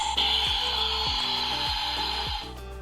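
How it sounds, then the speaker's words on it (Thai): A toy's synthetic soda fizz hisses steadily over a few rhythmic low beats, then cuts off near the end. "อีกเสียงหนึ่งเป็นเสียง โซดา แล้วก็ตามด้วยดนตรีนิดนึงนะครับ"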